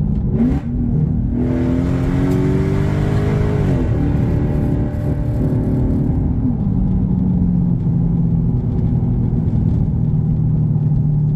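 A loud V8 engine with a Tomei exhaust on an Infiniti M45 (VK45DE) rumbles close by, its pitch climbing and then dropping sharply on downshifts, settling into a steady low drone.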